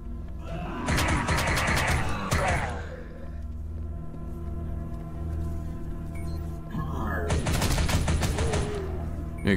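Sustained automatic fire from a light machine gun in the video game Hyperviolent, two loud, dense bursts of rapid shots with a steady low rumble between them.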